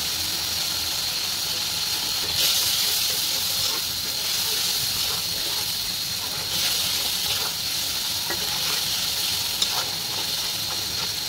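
Garlic paste, turmeric, chili and cumin sizzle steadily in hot oil in a pan, a continuous bright frying hiss that swells slightly a couple of times, with no one speaking.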